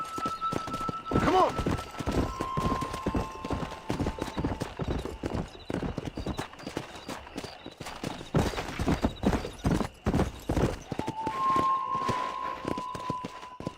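Hooves clip-clop in a fast galloping rhythm as a horse is ridden in Red Dead Redemption, with a whinny near the start and a brief shout of encouragement over the hoofbeats.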